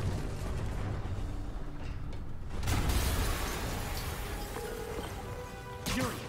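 A loud explosion erupts in the action game Marvel's Spider-Man on PS4, a broad rumbling blast with crashing debris that swells mid-clip, followed by lingering mechanical clatter and a second sharp crash near the end.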